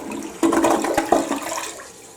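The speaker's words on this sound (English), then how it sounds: "but I'm going to flush." A household toilet bowl treated with denture cleaning tablets flushes with a sudden loud rush of swirling water that keeps gurgling and draining steadily for about two seconds, recorded up close.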